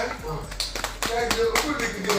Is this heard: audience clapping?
yes